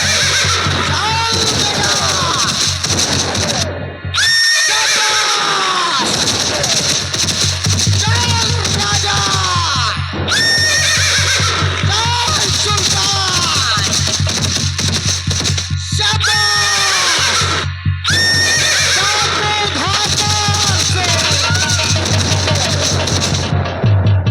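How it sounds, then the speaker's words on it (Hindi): A horse whinnies again and again over galloping hoofbeats in a folk theatre nautanki performance from Barabanki, loud and close, with brief silent gaps between bursts. "देखिए बिहड़ों की तरफ घोड़ा दौड़ाता हुआ जा रहा है"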